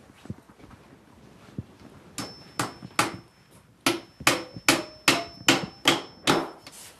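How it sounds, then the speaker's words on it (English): Hammer blows pounding together glued wooden joints of beekeeping equipment: a few scattered light taps, then a steady run of about a dozen sharp, loud strikes at a regular beat, close by with no talk. "Pound it down and get the other one started."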